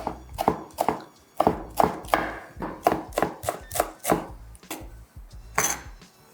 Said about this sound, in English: So we're cutting up our bundle of parsley, leaves and stems.